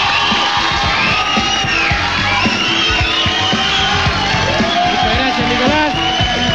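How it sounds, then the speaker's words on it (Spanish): A television studio audience in Chile whoops, cheers and claps for a guest, Felipe Bianchi, loud and continuous with shouts and yells rising through the crowd noise. "Un aplauso para él."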